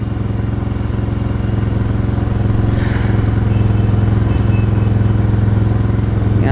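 A motorcycle engine runs close and loud at a steady, throbbing idle, rising slightly in pitch and level as the air-fuel mixture is adjusted.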